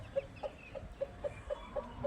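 Chickens cluck in a steady series of short, regular notes, about eight in a row, at moderate distance over low background noise, on a rooftop poultry setup.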